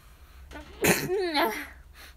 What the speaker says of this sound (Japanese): くしゃみでそう